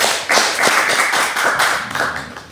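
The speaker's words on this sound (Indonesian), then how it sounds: "Tepuk tangan dulu." A crowd applauds together, a dense burst of clapping that starts abruptly and holds steady and loud for a couple of seconds.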